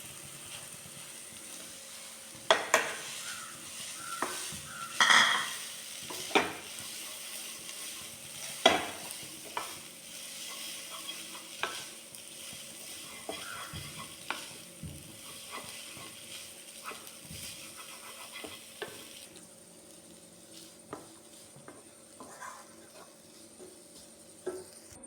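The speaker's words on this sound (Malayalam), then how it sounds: "ഇനി ഇതിലേക്ക് നമുക്ക് വേവിച്ച് വെച്ച് മാഗി ഇടാം." Cooked Maggi noodles are stir-fried in a pan, with a faint continuous sizzle under repeated scraping and clattering strokes of a spoon against the metal.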